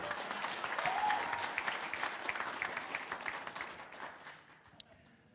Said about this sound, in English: That is why everyone is clapping all the time.